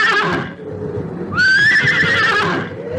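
A horse neighs as a radio drama sound effect, a loud close whinny rising sharply and holding for over a second after softer horse sounds, then trailing off.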